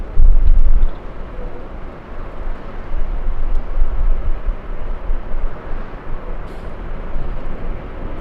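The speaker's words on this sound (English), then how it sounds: "Okay, Dreamliner on final." A Boeing 787-9 Dreamliner, American 135 in from London, on final approach at LAX, heard as a steady, wind-buffeted jet roar that holds at moderate level throughout, with a louder gust at the very start.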